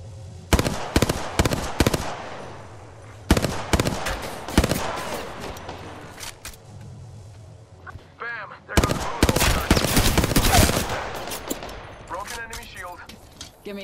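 Heavy gunfire in a video game battle, bursts of rapid shots crashing in loud clusters with short lulls between, close and dense, with voices talking underneath.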